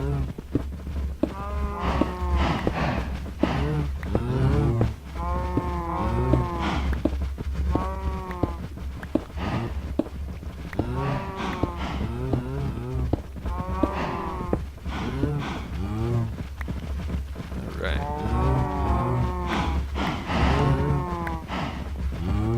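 Cows moo repeatedly in the Minecraft RxCraft farm game, a series of drawn-out calls spaced across the stretch over a constant low background hum, with no speech.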